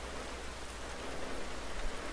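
Steady rain pattering on a bus in the video game The Last of Us, a dense, even hiss of drops throughout, fairly soft and with no voices.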